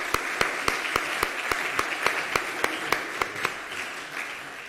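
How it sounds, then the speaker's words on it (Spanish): An audience at an international forum in Salamanca claps in steady applause, sharp individual claps standing out over a dense wash of hands, fading slightly toward the end. "vamos a recibirle con un aplauso"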